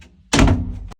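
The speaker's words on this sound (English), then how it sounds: "Shut the door." A door being pushed shut after a filter change, giving one loud, close thunk with a short dull resonance that cuts off abruptly.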